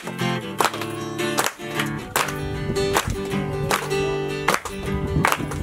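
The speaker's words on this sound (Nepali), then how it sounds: "ताली बजाउनु छ यतिखेर।" Hands clapping in steady time along with a Tamang Christian worship song, the beat sitting under dense sung and instrumental music that fills the whole stretch.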